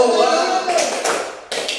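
A group in an elementary school classroom at SDN Kertasari IV does a two-clap pattern, with a few short, loud claps close by after a brief voice.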